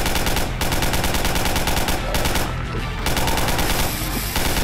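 Continuous rapid automatic gunfire in the video game Garry's Mod, loud and dense machine-gun bursts with a couple of brief gaps, nearly filling the whole stretch with no clear talk.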